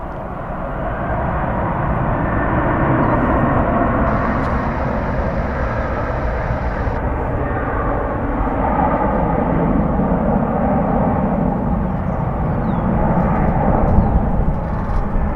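A Boeing 737 airliner at DFW Airport, roaring loud and broad as it passes, its jet noise holding steady for the whole stretch with no voices.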